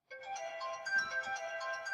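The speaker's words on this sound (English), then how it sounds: "that's my phone" A phone ringtone plays continuously, a bright repeating electronic melody with steady tonal notes, fairly close and clear with no talking over it.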